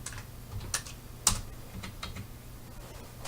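Typing on a computer keyboard while writing code: light, scattered key clicks at an uneven pace, close and quiet over a low background hum, with one slightly sharper tap partway through.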